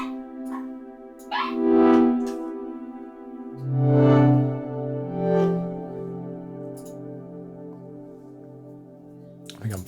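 A synth pad built in UVI Falcon with only reverb on the effects mix, playing sustained harmonic chords that swell and decay, with a long reverberant tail and a slightly gritty edge.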